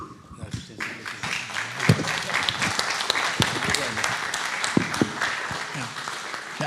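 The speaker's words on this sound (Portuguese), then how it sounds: "vai merecer com certeza uma salva de palmas muito grande da assistência" An audience at a professional forum applauds steadily, dense clapping close and loud, with a few sharper claps standing out and voices faintly underneath.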